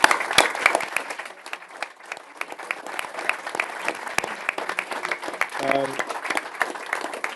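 Audience applause at a Tory party press event where the party leader set out benefits plans, a dense patter of clapping at moderate level with sharp individual claps standing out and a brief voice near the end.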